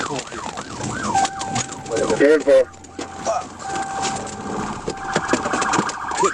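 A police siren wails, sweeping up and down nearby, with radio chatter and voices over it and a short burst of another horn midway.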